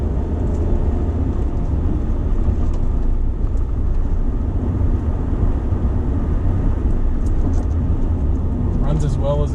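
A rebuilt Ram 2500 pickup truck on the road with about 8,000 miles on it, its engine drone and road rumble steady and loud from inside the cab throughout.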